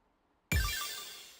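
A phone ringtone in the visual novel game Vivid/Stasis starts abruptly after half a second of silence. It is a bright electronic chime with a short melodic figure, loud and close, ringing out alone.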